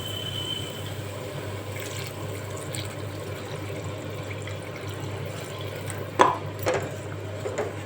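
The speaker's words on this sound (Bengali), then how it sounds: "এবারে জল ঢেলে দেবো।" Water poured into fried spice masala in a pan for a pomfret fish curry, heard as a faint, steady liquid wash with a few louder splashes and clinks near the end.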